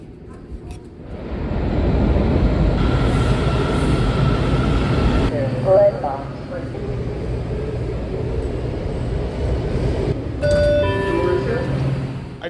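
Steady low rumble of a train moving through a Washington Metro station during the morning rush, with squealing brakes and a high chime toward the end.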